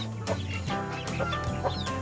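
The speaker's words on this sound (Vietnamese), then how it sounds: "Đây đều là gà của bà con hết" Village chickens cluck in short repeated bursts, near and fairly loud, several calls overlapping in a steady rhythm at a rural family coop.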